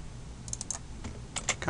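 Short bursts of computer keyboard keystrokes for copying and pasting while editing in Flash, a few quick clustered clicks close up over faint background hiss.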